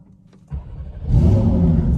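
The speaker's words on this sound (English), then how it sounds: "that's not a regular Turbo S startup" A Porsche 992 Turbo S engine starts with a sudden catch, then swells into a loud, full rev that holds steady and close for the rest of the moment.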